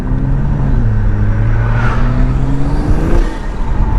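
Engine note of a 2021 Toyota Supra with the 3.0 engine, heard from inside the car while driving: a steady, loud drone that rises in pitch as it revs, dips briefly, then climbs again.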